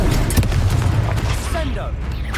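A Confringo fire spell blast in Hogwarts Legacy, a booming burst of low rumble with crackling bursts, loud and close, with a voice calling out over it.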